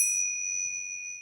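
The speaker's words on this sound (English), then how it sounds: "Let's start with this bell. Oh, it's still ringing." A percussion bell rings out alone with a long, bright sustained resonance, its tone decaying slowly and steadily after the strike with no other sounds.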